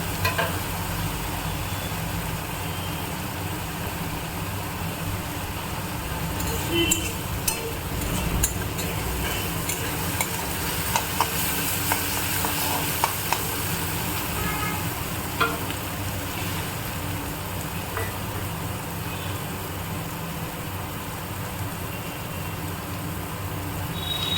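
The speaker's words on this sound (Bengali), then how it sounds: "পেঁয়াজটা ভাজা হয়ে গিয়েছে দিয়ে দিই" Onions fry in a pan for a Bengali fish curry, a steady close sizzle with faint clinks of a spoon, no talking.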